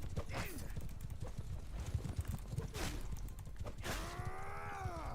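Horse hooves clatter in a rapid, steady rhythm in the game Mount & Blade II: Bannerlord, close and prominent, with a short tonal whinny-like cry near the end over a continuous background rumble.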